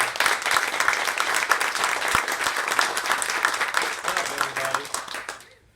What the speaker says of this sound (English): we should give a very warm round of applause to Aaron Reynolds